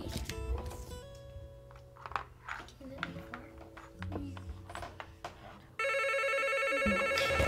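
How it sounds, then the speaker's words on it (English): A landline telephone rings near the end, a loud continuous electronic trill that starts abruptly after a stretch of clattering household sounds and mixed background noise. "Don't answer the phone."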